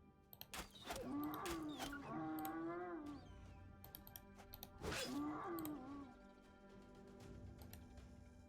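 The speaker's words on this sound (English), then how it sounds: "Why do the hyenas sound like cows? You know what I'm talking about? Like, it sounds like they're mooing." Hyenas in the video game Battle Brothers, making two long drawn-out moo-like calls that sound like cattle, loud and close, with faint keyboard and mouse clicks between them.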